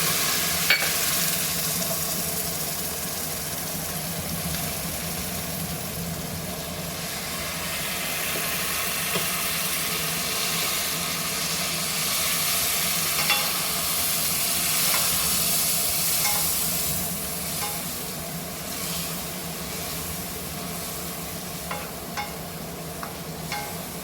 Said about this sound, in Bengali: মশলাটা আমি একটু কষিয়ে নেবো